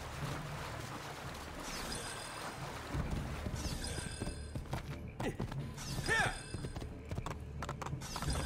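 Video game horse hooves clip-clop in a steady galloping rhythm, fairly close, with some wind and faint background noise.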